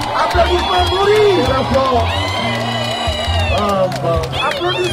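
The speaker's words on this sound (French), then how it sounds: "Des applaudissements s'il vous plaît" A crowd cheers and whoops at a drone light show landing during an independence commemoration, with a festive babble of voices over music and a lively, sustained din.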